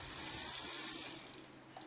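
An electric fishing reel winds slowly, giving a steady close mechanical ratcheting whir that fades and turns into a few separate clicks near the end.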